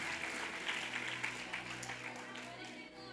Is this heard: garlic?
no